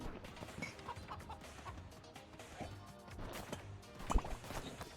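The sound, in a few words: chicken clucking in video game Moving Out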